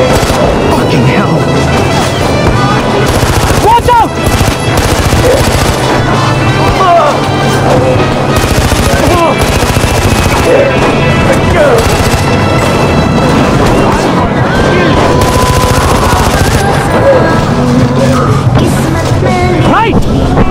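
Heavy gunfire and explosions in the video game Far Cry 4, dense crashing shots and booms layered over continuous music and excited shouting voices throughout.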